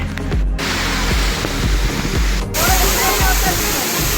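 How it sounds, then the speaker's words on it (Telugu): Godavari river water pours down a waterfall at Brahmagiri Hills as a loud, dense, continuous roar. Faint voices are mixed in, and the sound cuts abruptly twice. "ఈ వస్తున్న వాటర్ అంతా గోదావరి రివర్ వాటరే"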